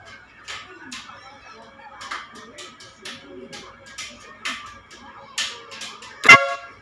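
A short, loud car horn honk rings out near the end over a background of faint shuffling and distant indistinct voices.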